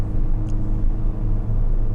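A first-generation Ford Fiesta Ghia supermini drives along a road, its engine a steady low rumble with tyre and road noise, close and continuous throughout with no break.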